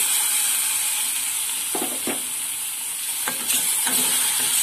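Tomatoes fry in a pan for sev tamatar sabzi, a steady close sizzle broken by a few scraping stirs of a spoon.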